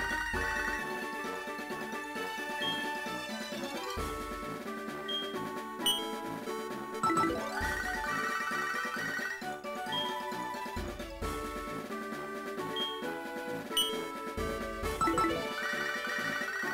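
A phone call rings in Pokémon HeartGold/SoulSilver: a repeating electronic chiptune ring plays in steady looping bursts over game music, with no talk.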